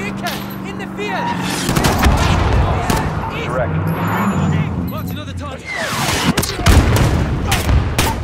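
A missile strike explosion in a Call of Duty Modern Warfare embassy mission, with heavy booms and gunfire over a rumbling battle din, radio voices talking throughout.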